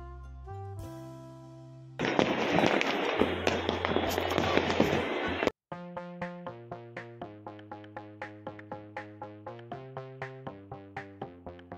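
A sky shot firework goes off during a Diwali celebration, letting out a dense burst of crackling, fizzing noise for about three seconds over steady, tuneful background music.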